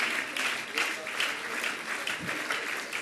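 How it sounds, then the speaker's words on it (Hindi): Audience applause at a Jain religious discourse, a steady wash of clapping from a large crowd that swells and dips in waves across the whole stretch, with a faint voice briefly underneath. "तालियां बजाते जाइए"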